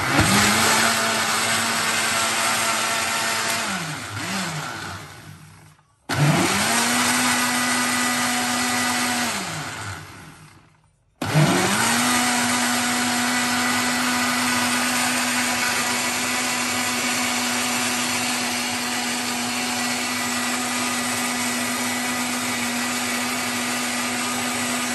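A blender whirs loudly as it mixes an ice candy mixture, its steady motor hum stopping twice for brief pauses before starting again and running on without a break.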